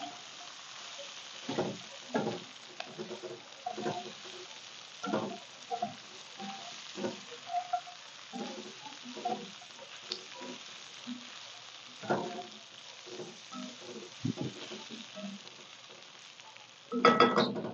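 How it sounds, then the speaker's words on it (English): Potatoes fry in bacon fat in a cast iron skillet, a soft, steady sizzle broken by repeated scraping and stirring knocks, close but fairly quiet, ending in a louder clatter. "I want these potatoes to cook in that fat."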